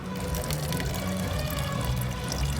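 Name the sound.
water dispenser pouring water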